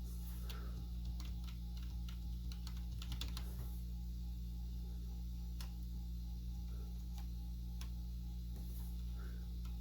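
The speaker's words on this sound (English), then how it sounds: "so we get around with the keyboard on here" Typing on the keyboard of a 1993 Synerjet 6000 notebook with a Cyrix 486SLC, irregular clusters of close, crisp key clicks over a steady electrical hum, a quick flurry in the middle and scattered single presses after.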